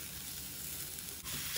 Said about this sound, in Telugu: ఇప్పుడు ఈ ఉల్లిపాయలు కూడా వేగనివ్వాలి।